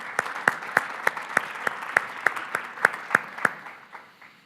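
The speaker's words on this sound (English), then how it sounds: "Let's give her a round of applause." Scattered hand claps from the audience at a 2019 healthcare keynote lunch in Arizona, after a speaker is introduced. The sharp claps come at a fairly steady, sparse rhythm and fade toward the end.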